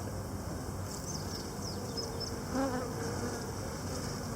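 Honey bees buzz steadily during a hive inspection, a dense continuous drone close by, with a few individual bees whining past briefly.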